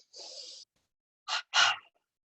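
Breathing exercise: a sharp double inhale through the nose, then a pause and a short-long double exhale, close and clear with no talking.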